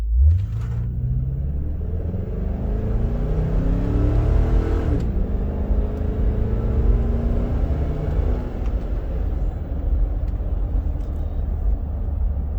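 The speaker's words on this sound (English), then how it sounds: "we'll come from a dead stop here and we'll really romp on it going uphill" A Hummer H3 Alpha's 5.3L V8 with a Magnaflow exhaust accelerates hard uphill from a dead stop, heard from inside the cabin as a deep, rising rumble that climbs through a gear change and then settles into a steady drone.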